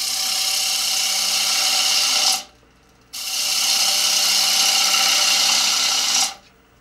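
A small gouge ground to a 40-40 profile cuts the rim of a green wood bowl on an electric lathe, giving a loud, steady shearing hiss that stops abruptly for a brief pause and then resumes before cutting off.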